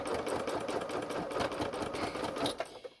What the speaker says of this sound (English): Laying it down in the sewing machine, I'm going to start sewing.